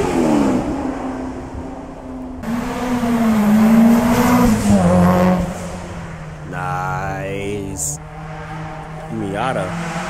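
A Fox body car races up a hill climb course, its engine revving hard and shifting through rising and falling pitch before other race cars scream past, with people talking over the noise.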